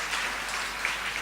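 A live audience claps steadily for a student speaker at a speech event in Allahabad, a soft, even wash of applause with no voices over it.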